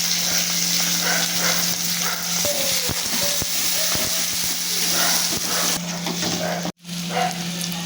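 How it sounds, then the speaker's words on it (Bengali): Onions fry in hot oil with a loud, steady sizzle and hiss close by, sprinkled with small crackles and light utensil clicks, briefly cut off near the end before the frying resumes. "তেলটা গরম হয়ে গেছে। এবার আমি পেঁয়াজগুলো ভেজে নেব।"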